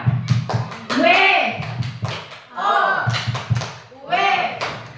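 A group doing the tepuk wow clapping chant, with rhythmic rounds of hand claps and taps alternating with voices chanting together in rising calls, loud and close.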